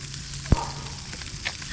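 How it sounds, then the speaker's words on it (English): Butter sizzling in a pan on an outdoor off-grid cabin cooking setup, a soft continuous frying crackle with one sharp knock partway through. "Hear the butter sizzling."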